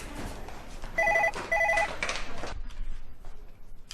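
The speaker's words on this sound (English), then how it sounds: "you hear the phone ringing?" A telephone bell rings in two close electronic trills, loud and near, inside a home, with a voice murmuring faintly around the rings.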